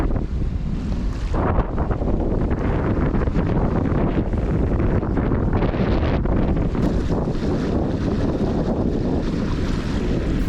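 A strong northerly wind buffets a sailboat among the fjords of Norway, roaring loudly and continuously across the microphone in gusts, with water and hull noise mixed beneath the rush and no voices.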